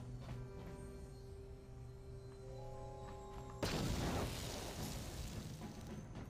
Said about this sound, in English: I might be able to just pop them with a grenade.